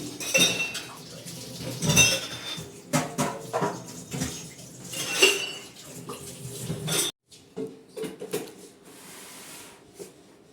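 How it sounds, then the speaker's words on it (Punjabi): Dishes and glasses are scrubbed and washed in a home kitchen, with clinking cutlery, knocking pots and splashes of water in irregular close bursts, no talking. "ਭਾਂਡੇ ਭੁੰਡੇ ਮੈਂ ਦੁਬਾਰਾ ਸਾਫ਼ ਕਰ ਦਿੱਤੇ ਗਲਾਸ ਮਾਂਜ ਮਾਂਜਦੇ ਆਪਣੇ"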